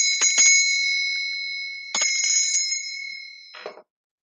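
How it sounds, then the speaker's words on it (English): A small Scottish hand bell rings out in three bright, clear strikes, each leaving a sustained metallic shimmer that decays slowly, with the last strike short and damped, close by in a quiet room. "Scottish bell."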